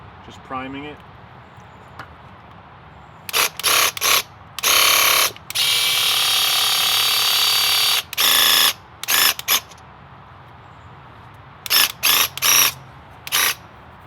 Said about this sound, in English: Just priming it.